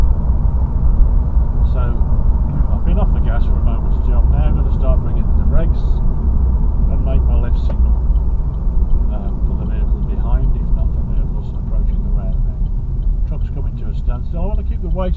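A car drives through traffic approaching a roundabout behind a truck, its steady low engine and road rumble running throughout while someone talks over it.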